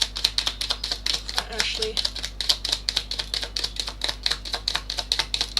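Tarot cards shuffled in a rapid, steady riffle of crisp papery taps, loud and close, while a voice speaks briefly over them.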